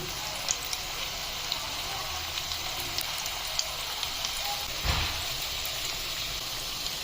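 Onion pakoras frying in hot refined oil, a soft continuous crackle and sizzle with scattered small pops, fairly quiet and steady, with a faint voice underneath.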